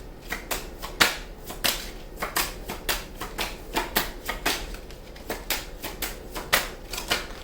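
Tarot cards are shuffled and drawn in a steady run of crisp, close riffling snaps, about two per second, clear and without talk.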